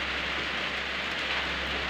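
Steady rain falls in a dense, even hiss, continuous and moderately loud throughout, with no voices or other sounds standing out.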